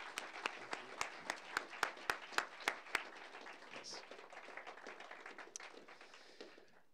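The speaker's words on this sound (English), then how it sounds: "Could we give them a round of applause?" Applause from a graduation audience for school volunteers opens with a string of distinct, evenly spaced close claps, then blends into softer, denser clapping from the crowd that slowly fades.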